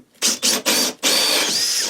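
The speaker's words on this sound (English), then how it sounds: "I'm just going to drill a hole with a hole saw." A dull hole saw bores into the wooden hull of a liveaboard boat in four close bursts, the last one long and steady, loud and grinding with a high whine.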